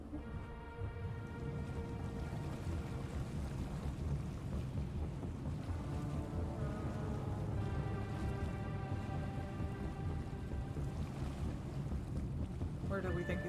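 A boat moving over water in the video game Jenny LeClue makes a continuous rushing wash, steady and fairly quiet, with faint sustained tonal notes layered over it and no break across the stretch.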